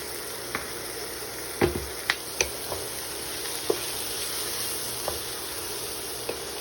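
Shrimp, green onions and chilies sautéing in a pot for spicy yaki udon, a soft continuous sizzle broken by a few sharp utensil clicks and taps against the pan.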